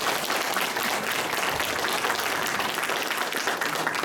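A lecture audience bursts into steady applause, many hands clapping in a dense, even wash that stays fairly loud for the whole stretch, with no talking over it.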